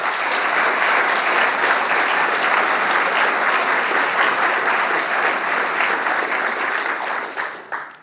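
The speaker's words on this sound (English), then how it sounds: "A big round of applause." Sustained, dense applause from a large audience at an architecture awards ceremony fills the room evenly for several seconds, then thins out and fades as the clapping tapers off.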